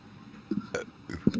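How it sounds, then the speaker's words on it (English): A short human burp, close and soft, in a couple of brief gurgling bursts over a quiet room, with no speech. "I'm gonna have a recording of my burp."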